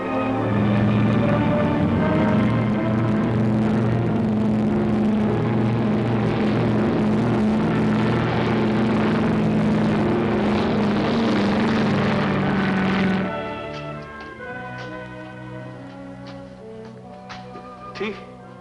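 Aircraft engines on an airliner in a period adventure drama start up and settle into a loud, steady propeller drone that later drops away, with voices talking over it.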